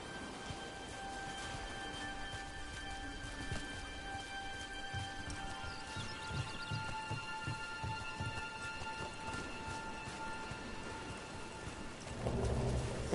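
Steady rain in the Dragon Age: The Veilguard video game, a continuous patter of drops over a low rumble, with a heavier surge of rain and thunder-like rumble toward the end, under a sustained musical drone.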